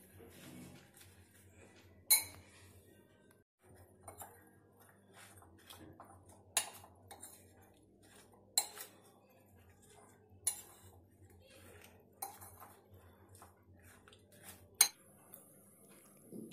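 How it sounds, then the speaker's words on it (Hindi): Spoon clinks and scrapes against a bowl every second or two while green chilies are mixed with red chili powder, salt and amchur, with a low steady hum underneath and no talking. "अच्छे से मिक्स करें।"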